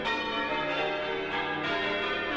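Heavy church tower bells, including a large tenor recast from a 1571 bell, ring in a dense, continuous wash of overlapping tones that stays loud and sustained throughout with no voices.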